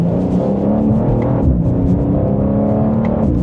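A BMW M2 twin-turbo with 473 horsepower pulling hard, its engine note climbing steadily and loud from inside the cabin, with brief dips in pitch as quick gear shifts land.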